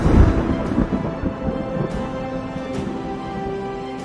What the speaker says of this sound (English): Can you quell the Storm King's thunder?